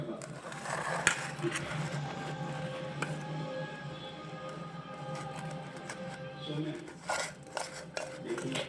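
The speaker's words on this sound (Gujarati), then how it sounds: "હવે પહેલાં આ બધું જ વસ્તુને આપણે મિક્સ કરી દઈશું" A spoon clinks and scrapes against a bowl as a spice paste is stirred, with irregular taps and knocks at a close, moderate level.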